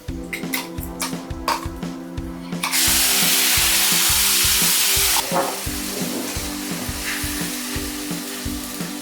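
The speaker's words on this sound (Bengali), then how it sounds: "এবার এই মশলাটা কষতে থাকুক" Spice paste (masala) for kabuli chana fries loudly in a pan, a steady close sizzle with rhythmic stirring scrapes and a sudden, louder hissing surge partway through.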